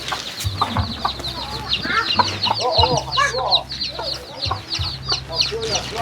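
Chickens at a rural village home cluck and call repeatedly close by, with a low steady hum underneath and occasional voices.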